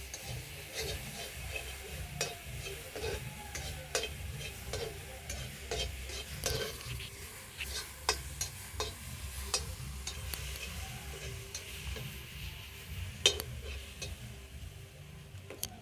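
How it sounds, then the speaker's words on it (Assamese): Spices with turmeric fry with a low sizzle while a spoon scrapes and stirs around the pan in steady, repeated strokes, with occasional sharper clicks. "অলপ সময় এইখিনি ভাজি ল'ম"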